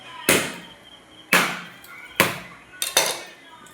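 Four sharp, separate knocks, about a second apart, come from grated coconut being beaten in a bowl in a home kitchen. They are close and loud, with quiet gaps between them.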